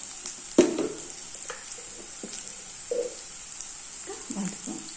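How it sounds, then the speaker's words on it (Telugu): Onions with ginger garlic paste frying in a pan, giving a steady close sizzle with a few soft utensil clinks and stirring knocks over it. "ఆనియన్ కూడా ఫ్రై అవుతున్నాయి"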